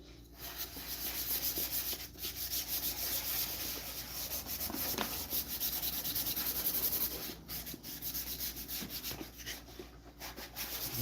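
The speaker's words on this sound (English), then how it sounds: "I'm just gonna buff." Steady, close rubbing and scrubbing of a Scotch-Brite pad buffing hard, non-liquid custom wax into a wooden box, continuous and fairly loud with brief pauses in the stroke and no talking.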